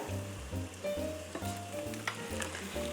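An egg fries with a steady crackling sizzle in a tight little pan, with a few soft scrapes and taps as a spoon works underneath it to flip it over.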